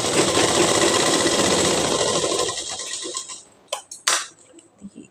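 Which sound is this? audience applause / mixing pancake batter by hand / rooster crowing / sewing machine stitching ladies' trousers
sewing machine stitching ladies' trousers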